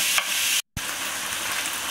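Minced meat browns in a hot pan for taco filling, with a dense, continuous sizzle and stirring scrapes, broken once by a brief silent cut, and no voices.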